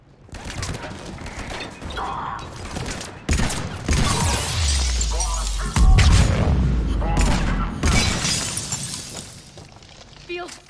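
Gunfire in the video game Mass Effect 3's Omega DLC, with bursts of shots, shattering impacts and booming blasts that swell and fade over about ten seconds, mixed with spoken voices.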